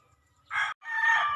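Rooster crowing nearby at a backyard poultry farm, one loud two-part crow with a brief break between the opening note and the long drawn-out call.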